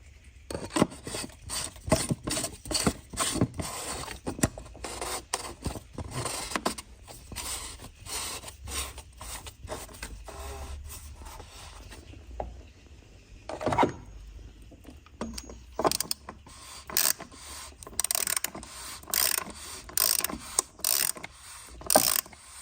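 Mechanical clicks, rasps and ratcheting while a new filter is fitted on a VW Touareg 3.0 V6 TDI, with sharp close knocks and scrapes in irregular bursts and a brief quieter stretch midway, no talking.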